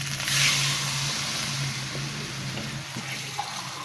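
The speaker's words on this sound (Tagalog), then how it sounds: "Lagyan natin ng tubig." Water rushes into a pot of cooking crabs with moringa and lemongrass, a steady, close splashing pour that lasts a few seconds and tapers off slightly.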